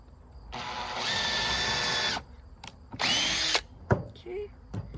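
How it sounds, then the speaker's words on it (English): A power drill pre-drills a hole in wood during amateur construction work, giving two loud whining runs of about a second each with a short gap between, then a few faint clicks and clunks. "But I'll still pre-drill."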